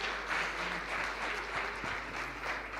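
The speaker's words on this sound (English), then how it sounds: "Please just give her a round of applause." An audience at a small business workshop claps for a participant, with dense, sustained applause from a room of people throughout.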